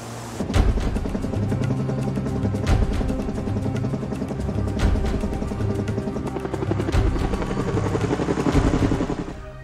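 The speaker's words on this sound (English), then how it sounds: "Four helicopters doing a canvas search of an area that we call Nugget Valley." Helicopters flying on a search over a valley send out a loud, continuous rotor thump with rising and falling intensity, close and overhead, with no voices.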